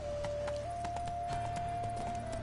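Geralt's horse Roach in The Witcher galloping, rapid rhythmic hoof clops pounding steadily under a sustained musical tone and ambient game sound, moderately loud and close.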